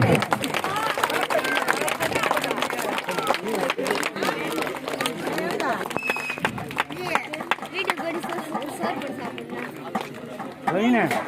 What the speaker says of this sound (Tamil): கைத்தட்டுங்க கைத்தட்டுங்க